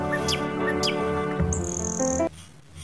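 A parrot gives bright, repeated chirping calls, loud and close, with a higher whistled note midway before the sound cuts off abruptly near the end.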